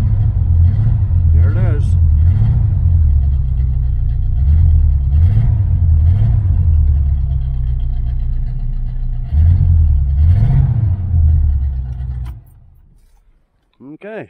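A 1978 V8 Chevrolet Nova hot rod is started off a booster pack, its engine cranking and catching into a loud, rough, rumbling idle with repeated revs. The motor then cuts out abruptly, and someone speaks briefly near the end.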